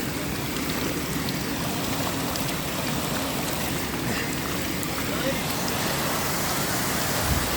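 River water flows at night along a mountain route, a dense, continuous rushing roar that stays loud and steady throughout, with no clear voices over it.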